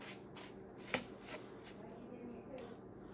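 Sand from a children's science kit handled and rubbed between fingers, a close, soft granular rustle and scratching with one brief tap.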